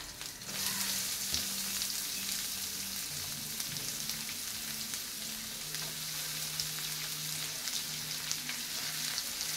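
Onions sauté in hot oil for chana masala, a continuous even sizzle with faint stirring, close and steady throughout, with a low hum underneath and nobody speaking.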